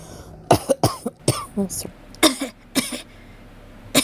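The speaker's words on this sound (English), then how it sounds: "Or I have a cough now." A woman coughs and clears her throat in a series of short, sharp bursts close to the mic, some in quick pairs, with a brief apology spoken between them and quiet pauses in between.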